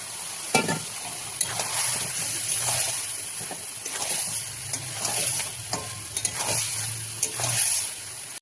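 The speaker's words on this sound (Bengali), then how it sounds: "মশলা কষানো হয়ে গেছে, তেল ছেড়েছে। এবার আমি এখানে ম্যারিনেট করা চিকেনটা দিয়ে দেবো।" Marinated chicken hits hot spiced oil in a pan of fried-down masala for chicken kosha, sizzling steadily up close while stirring brings irregular scrapes and soft clacks throughout.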